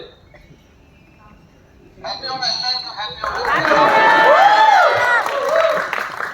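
A packed, housefull cinema crowd cheers for Mohanlal, breaking into loud applause, whistles and shouting after a quieter start of scattered voices, building to a sustained roar.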